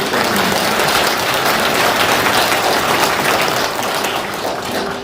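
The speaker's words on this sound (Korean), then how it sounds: "여러분 그분들께 감사의 큰 박수 부탁드립니다." Sustained audience applause at a clan association's 2023 extraordinary general meeting, thanking the election committee: steady, dense clapping from a large crowd, holding evenly for several seconds without talk.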